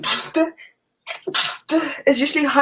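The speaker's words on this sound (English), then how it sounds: "sorry, I have to sneeze" A single sharp sneeze bursts out at the start, followed by a person talking in a podcast studio.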